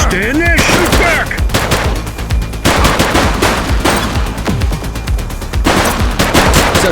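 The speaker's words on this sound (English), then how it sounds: "Don't just stand there, shoot back!" A shootout in the video game Precinct brings loud, rapid bursts of automatic gunfire in repeated volleys, close and dense, with brief pauses between the barrages.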